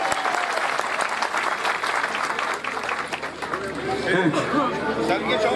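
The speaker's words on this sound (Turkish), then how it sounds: "Ben hem babayı hem şöyle amcaları bir alkışlamanızı istiyorum." Crowd applause at a Turkish wrestling event in Sincan, dense steady clapping that continues throughout, with voices and chatter mixed in.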